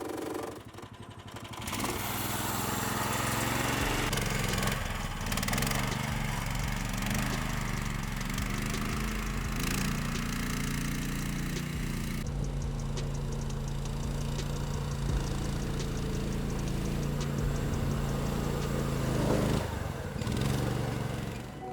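A tiny homemade tracked mini ATV built like a chair, with a CVT, runs its small engine at a steady, loud droning pitch throughout, with a slight change in tone midway as it drives.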